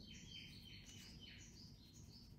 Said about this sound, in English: I don't mind the birds.